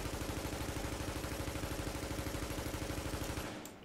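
ACR rifle in The Division firing a long fast automatic burst, loud and evenly rhythmic, ending abruptly after about three and a half seconds.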